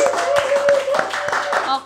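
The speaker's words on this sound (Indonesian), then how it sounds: "kasih tepuk tangan Shirley" A small group claps for Shirley, a singer, in a string of distinct, fairly loud claps in an uneven rhythm, with a sustained tone and some voices underneath.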